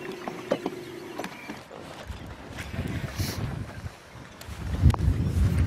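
Strong wind buffets a small boat on a rough mountain lake with many waves, a steady blustery rush with water sloshing and mechanical creaks, growing louder toward the end.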